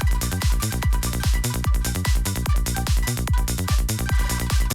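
A Serum 2 synth arpeggiator pattern, a fast, steady stream of bright plucked synth notes over a punchy low pulse, loud and dense without any talking.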